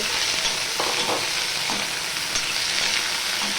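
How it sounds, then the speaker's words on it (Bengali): Okra (bhindi) frying in oil in a pan, a steady loud sizzle throughout with a few soft stirring scrapes, no voices. "সবার প্রথমে আমি ভেন্ডিগুলোকে ভেজে নেব"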